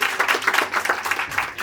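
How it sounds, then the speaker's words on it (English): Audience at an International Women's Month event clapping, a steady run of close hand claps with uneven bursts that rise and dip, no talking over it. "I want us to applaud her"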